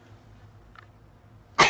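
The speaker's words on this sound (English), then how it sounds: "I had to sneeze." A single short, sharp sneeze bursts out loudly near the end after a quiet pause, close to the microphone in a live sports chat setting.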